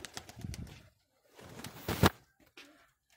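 High flyer pigeons, a fairly large bird among them, give soft cooing calls with bursts of wing flapping, close by and intermittent, with no talk.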